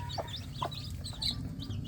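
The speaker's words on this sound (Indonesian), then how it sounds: "anak ayam kampung saya sudah mulai terbiasa makan bersama-sama dengan induknya ya" Free-range village chickens, a hen with her chicks, cluck softly and steadily nearby, with chicks peeping high over the low murmur of the flock.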